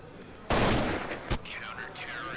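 A headshot lands in a Counter-Strike match between Na`Vi and fnatic. A sharp burst of gunfire hits suddenly, then one more crack follows, with faint game effects trailing behind. The shots sound fairly distant and soft in the mix.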